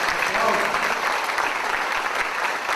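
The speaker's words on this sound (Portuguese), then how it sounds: "aplausos" An audience applauds at the opening of a public session of an amnesty commission event, with sustained, fairly loud clapping throughout and a voice speaking over it.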